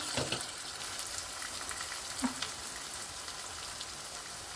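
Onions fry in a pan with ginger garlic paste for an egg curry, giving a soft, steady sizzle with faint crackles and a few light stirring taps, quiet and close, with no talking.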